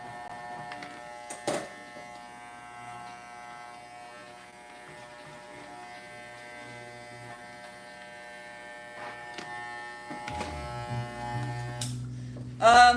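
A power tool shaves excess foam off a wolf skull mask, giving a steady close buzzing whine that runs almost without a break, with a couple of sharp knocks and a louder rattle near the end.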